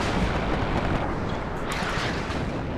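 BM-30 style Buratino rocket artillery salvos in the strategy game WARNO, a continuous dense roaring rumble with a steady wash of launch noise and no clear gaps.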